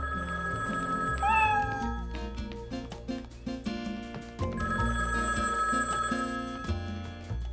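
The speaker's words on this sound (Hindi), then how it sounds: "डैडी का फोन होगा लियो के बारे में बताने के लिए" A telephone rings in two bursts of bright electronic trills, loud and near, over busy background music.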